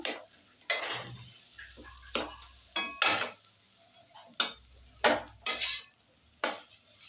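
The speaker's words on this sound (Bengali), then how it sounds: "লেবু পাতাটা দিয়ে একটু নেড়ে চেড়ে" Lote fish jhuro with lime leaves is stirred in a pan, a series of sharp, close scrapes and clinks of a spatula against metal coming in uneven strokes roughly once a second, with quiet gaps between.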